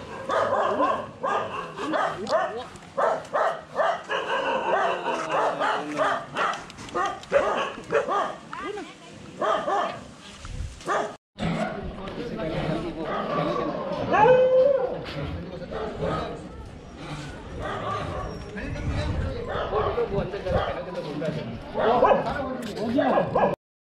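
A dog barks, yips and whimpers close by in short bursts, with people talking over and between the sounds.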